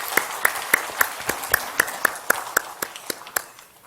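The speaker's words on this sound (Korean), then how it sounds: "우리 같이 박수 한번 하겠습니다." Sparse clapping in a church service during Sunday announcements, about a dozen separate sharp claps spaced at a steady beat, close and distinct, fading near the end.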